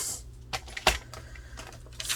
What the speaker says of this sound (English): All right, so I'm going to use my paper cutter